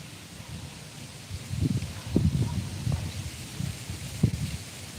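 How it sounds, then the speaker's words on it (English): Wind blows outdoors in uneven gusts, producing low rumbling buffets that swell and fade with a few sharper thumps over a faint rustling background. "Boy, that wind is really starting to kick up."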